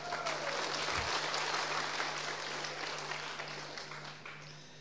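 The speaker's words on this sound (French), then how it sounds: "Allez, on applaudit, on fait saigner ses mains." Steady applause from an audience at a university bachelor's diploma ceremony, a dense wash of many hands clapping that holds loud throughout and eases slightly toward the end, with no voices over it.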